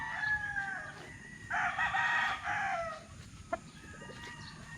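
A young gamecock, a not-yet-matured stag at a game farm, crows close and clear in one long call, with softer clucks and farmyard bird sounds around it and no talk.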